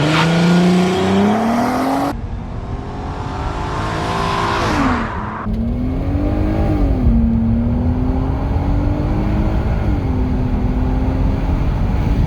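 An Audi sports car, brake-torqued and then launched hard in S mode, roars loudly from inside as the engine climbs through several rising gear pulls with brief shift dips, continuous and close with no talking.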